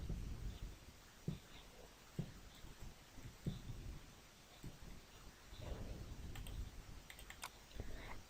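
A computer mouse clicks in a series of soft, quiet, evenly spaced clicks over a faint low hum in a still room.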